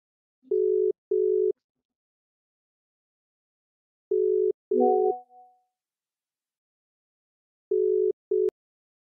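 A telephone tone sounds while a call is being placed, in short steady beeps heard in three separated pairs with long silent gaps. One burst briefly overlaps a tonal chime.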